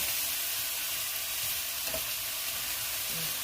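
Ginisang kangkong (water spinach) sautéing in a pan seasoned with fish sauce and pepper, giving a steady, close frying sizzle with faint stirring clicks and no talking.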